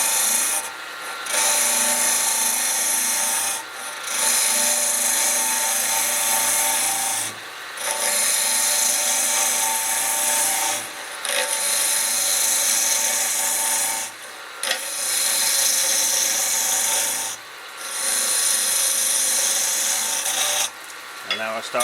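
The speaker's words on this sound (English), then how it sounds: "Move the tool rest in and start peeling out from inside." A wood lathe hollowing cut with a Crown Revolution Super Ring tool peels material from inside a spinning workpiece, giving a loud, continuous rough scraping hiss in long passes broken by short pauses every few seconds.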